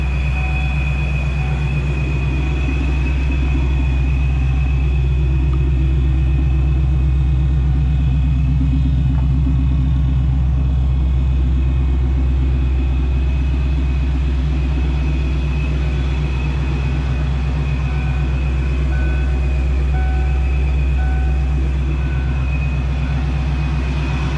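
Loud, steady idle of a 1996 Ford Mustang Cobra engine, a deep continuous rumble with a faint high whine on top, close by and unbroken.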